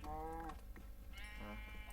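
Sheep bleat in Minecraft, several short wavering calls over a steady background hum, one early and others later, fairly distant.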